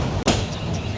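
A passenger train running from Dhaka to Kishoreganj makes a loud, close, continuous rumble and rattle, broken by one brief dropout and a sharp clack in a short burst.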